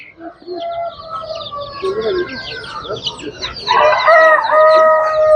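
Chickens and week-old village chicks at a Tuzla poultry market cluck and peep loudly up close, with overlapping calls growing busier toward the end and people talking in the background.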